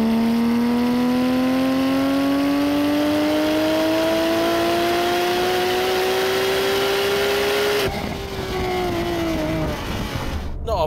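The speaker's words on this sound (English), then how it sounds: "First ever drive of a 997 GT3." A Porsche 911 997 GT3 accelerates hard on a nearly empty race track, its engine note rising steadily and loudly through the revs before a gear change, heard up close from inside the car.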